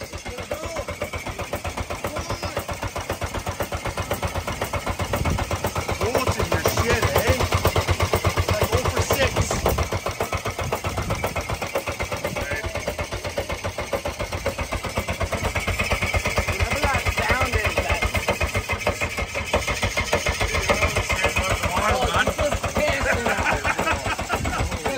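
A rough, rumbling Ford Probe car engine running steadily for a long stretch, revving slightly early on, with people speaking over the noise.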